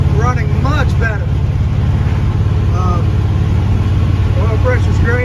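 A Chevy 283 V8 with throttle body injection runs steadily after a misfire repair, giving a smooth, even low drone that continues throughout while someone talks over it.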